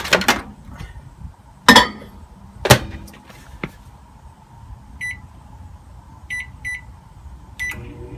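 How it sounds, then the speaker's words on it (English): A 600-watt microwave oven runs on power from a Toyota Prius inverter, giving a steady hum under several sharp clunks of the door and buttons. A series of short electronic beeps follows near the end. "This is a 600 watt microwave, although the whole thing is rated at over 900."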